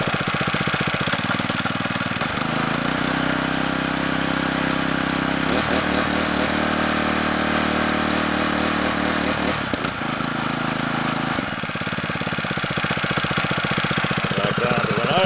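A homemade outboard boat motor with a 173cc four-stroke lawnmower engine revs up from idle into a louder, harder knocking roar, holds there, then drops back toward idle, all close by.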